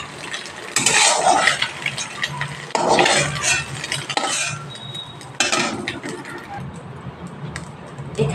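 Cooked egg bhujia is scraped and transferred from a pan into a bowl, with close metal utensil scrapes and clinks coming in a few bursts and some faint background noise between them.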